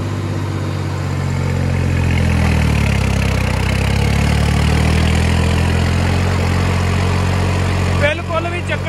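A Deutz Fahr 70 hp tractor in four-wheel drive, high range second gear, pulling a cultivator, its diesel engine droning steadily around 2000 rpm with a deep throbbing hum that holds constant before a brief disturbance near the end.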